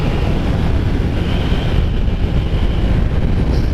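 A motorcycle rides along with steady engine rumble and heavy buffeting wind noise filling the whole stretch, loud and continuous, with no talking.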